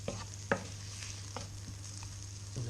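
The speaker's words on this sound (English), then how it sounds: "Once your butter starts coming up to a slight bubble, just add in the mushrooms. Just give them a little stir around" Mushrooms fry in bubbling butter and oil in a pan, with a steady low sizzle and a few sharp scrapes and knocks as a utensil stirs them.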